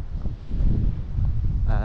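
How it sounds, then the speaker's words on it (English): Gusty coastal wind in Portinatx, Ibiza, rumbles against the microphone, a dense low roar rising and easing, with a faint brief tone near the end. "it is super windy"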